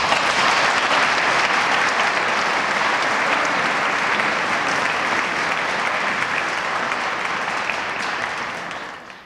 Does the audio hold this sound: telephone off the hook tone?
no